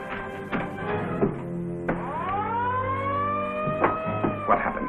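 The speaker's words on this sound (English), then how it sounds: "Yoga, that's the alarm." An alarm siren sounds on board a ship, a loud wailing tone that sweeps up and holds with a rough, buzzing edge, interrupted by a few sharp bangs and knocks, in a scratchy old film soundtrack.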